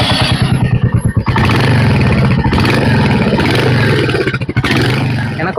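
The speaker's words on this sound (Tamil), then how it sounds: "நம்ம இப்போது ஹண்டர் 350யோட எக்ஸாஸ்ட் சவுண்டை கேட்போம்." A 2025 Royal Enfield Hunter 350 motorcycle exhaust thumping at idle, then revved up into a loud, sustained roar with a brief dip before climbing again; no speech.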